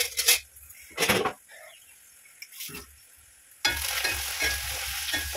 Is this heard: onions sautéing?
yes